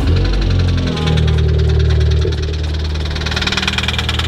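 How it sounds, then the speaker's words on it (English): A 2016 Volkswagen Golf R engine with rod knock runs loud and close, a rough idle with a rapid rhythmic knocking throughout that surges slightly near the start and then settles. "If you're ever curious what rod knock sounds like, that's it."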